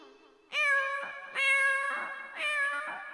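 A man imitates a cat meowing, giving three drawn-out, wailing meows in close succession, loud and close with no other sound.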